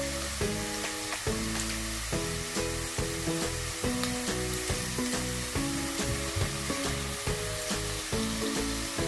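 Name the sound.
chicken and onions frying in a pot for pulao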